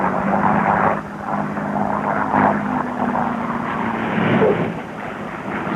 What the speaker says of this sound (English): It's touchdown, using up runway fast. It was a hot landing.